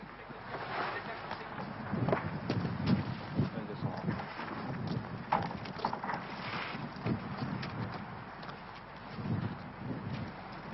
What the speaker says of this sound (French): On entend des bruits sinistres qui se dégagent du bateau par les vagues.